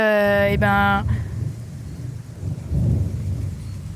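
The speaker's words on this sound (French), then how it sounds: "tu entends ce bel orage" Outdoors in a thunderstorm with strong wind and rain, a low rumbling roar of thunder and gusting rain rolls through after a brief tonal sound at the start, loud and close, swelling again near the end.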